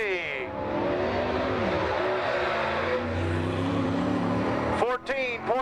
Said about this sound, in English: Napa Auto Parts Masterbuilt Monte Carlo with a Pro Power engine